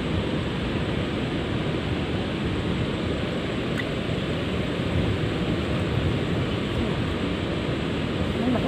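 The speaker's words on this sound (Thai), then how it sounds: "หลังฝายนี่ก็จะมีเสียงน้ำตกดังหน่อยนะ" Water pouring over a river weir like a small waterfall, a constant dense rushing roar that stays steady and fairly loud throughout with no break.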